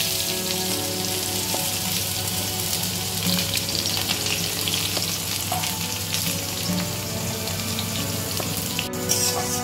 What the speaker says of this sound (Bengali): এখানে আমি নিয়েছি 3টে মাঝারি সাইজের পেঁয়াজ, এটাকে আমি এবার ফ্রাই করব।